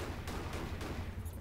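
Game gunfire from Cortex Command, a few sharp shots at about a quarter-second spacing over a steady low battlefield rumble, fairly quiet and without voices.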